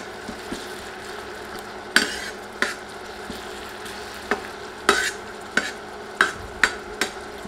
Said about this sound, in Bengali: পেঁয়াজ দিয়ে নেড়ে নেড়ে কিছুক্ষণ ভেজে নিব।